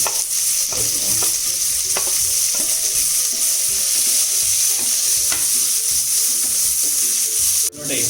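Onions sautéing with ginger, garlic and green chilli in a pan, a continuous close hiss and sizzle with soft rhythmic scraping of the stirring spoon, loud and steady with no talk.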